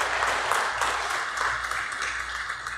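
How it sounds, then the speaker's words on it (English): A church congregation applauds, a steady patter of many hands clapping together, moderately distant and evenly sustained throughout the short stretch. "Let us give Father Humes a round of applause."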